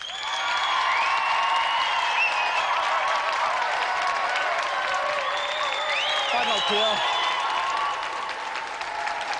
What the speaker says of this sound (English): Round of applause for Peter.